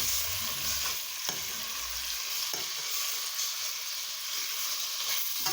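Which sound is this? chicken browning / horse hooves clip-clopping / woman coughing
chicken browning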